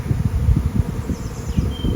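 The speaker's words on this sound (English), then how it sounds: "If I pan around, there's bees all around me" A swarm of honey bees buzzes densely around hives outdoors, a continuous close, fluttering hum with individual bees zipping past the listener.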